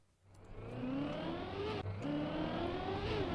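A Trackmania car on a dirt map accelerating, its engine rising steadily in pitch, briefly dropping at a gear change, then climbing again, loud and continuous.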